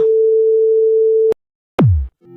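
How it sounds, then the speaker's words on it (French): Chiptune-style music: a plain sine tone holds steadily for over a second, breaks off, then a single low percussive hit drops sharply in pitch, followed by a brief quieter blip. "Les deux sons employés sont un simple son sinusoïdal et une percussion grave."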